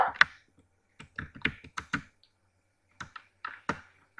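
Computer keyboard typing in short bursts of crisp key clicks, a quick cluster of strokes followed by pauses and then a second flurry, close and fairly quiet with no talking.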